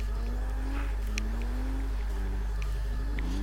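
A Lexus SC300 drift build in Forza Motorsport 6 sliding with sustained engine drone whose pitch rises and falls steadily, with a few brief tire-squeal bursts on top, no talking.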